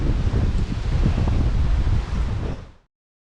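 Strong wind on a rainy, wavy jungle point buffets the microphone in a loud, continuous roar with rustling, then cuts off abruptly near the end.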